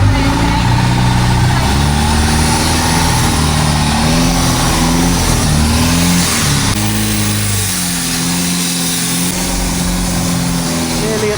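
A boat engine runs steadily near Thailand's Railay Beach, a loud close mid-pitched drone with slight rises in revs, continuous throughout with faint talk beneath.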